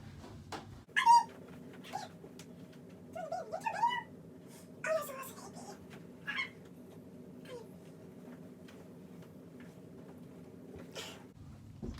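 A puppy making a few soft, high whimpers and whines scattered over a quiet indoor background, faint and intermittent, with some brief vocal sounds in between.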